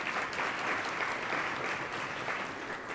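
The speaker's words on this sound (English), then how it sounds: "Right here, give her applause." Steady applause from an audience, a dense wash of clapping that holds at an even level throughout.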